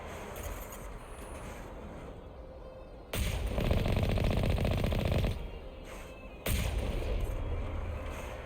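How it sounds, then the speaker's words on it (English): Enemy gunfire in Mass Effect, heard while riding in a tank on a dig site. Two long, loud bursts of rapid automatic fire, each lasting a couple of seconds, cut through a quieter rumbling background. No one speaks. "That guy's already shooting at us."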